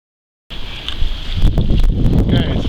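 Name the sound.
strong wind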